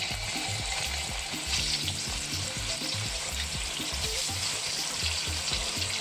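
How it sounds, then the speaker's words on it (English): Chicken searing in hot oil in a pan while making la zi ji, a loud steady sizzle and crackle that carries on without pause, close up and with no voices. "so when the oil is hot, sear the chicken, and do not flip it and flop it over and over again."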